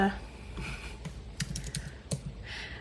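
Keys tapped on a computer keyboard whose number keys stick after a yogurt drink was spilt on it, in scattered soft clicks under a quiet background of low talk.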